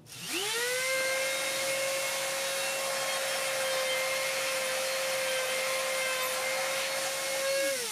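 An end mill on a flexible-shaft rotary tool cuts a quick test groove, a high steady whine that spins up sharply, holds evenly for several seconds close by, then winds down at the end.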